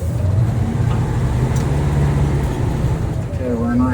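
A fire truck engine rumbles steadily in low range, a deep loud drone close by with a rising gear whine near the end, and people talk over it.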